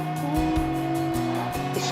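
An underwater metal detector gives off a steady, unchanging tone during a dive, heard beneath a constant rumbling wash of underwater noise.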